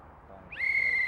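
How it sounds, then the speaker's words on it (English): A referee's whistle at a junior strongman deadlift event sounds one sharp, sustained, clear blast that starts partway in and holds to the end, loud and close with no talk over it. "Now there's the whistle."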